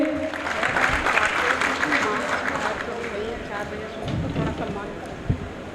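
Audience clapping at a Hindi-speaking Bahujan political gathering honoring Kanshi Ram, a steady wash of hand claps running throughout, loud and close, with voices and crowd chatter mixed underneath.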